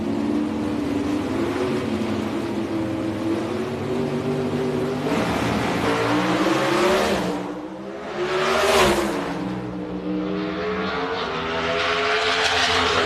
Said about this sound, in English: A pair of Oldsmobiles, and the winner is near lane, Kurt Johnson, a squeaker.